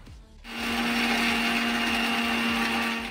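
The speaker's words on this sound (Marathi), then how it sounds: "आता आपण हे सगळं मिक्सरमधून वाटून घेणार आहोत" After a brief quiet moment, a mixer grinder whirs up to a loud, steady motor drone grinding homemade protein-powder ingredients with rattling contents, close and continuous until the end.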